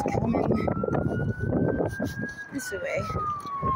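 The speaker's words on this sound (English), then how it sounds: "No, fire truck going down the next street." A fire truck siren sounds from the next street over, one long wailing tone that slowly rises and falls above outdoor noise while people talk nearby.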